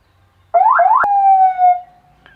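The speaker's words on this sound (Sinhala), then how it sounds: "මේක අපිට සයිරන් එක මේක පැටර්න් 4ක් තියෙනවා" A modified BJ40 vehicle siren switches through patterns: two quick rising whoops, a sharp click, then a steady held tone, loud and close against a quiet background.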